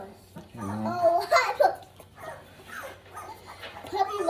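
Newborn puppies being dried off after birth, giving small whimpers and squeaky yelps close by while someone talks over them.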